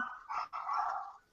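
A dog barks close by in one or two short, muffled bursts during an online podcast call.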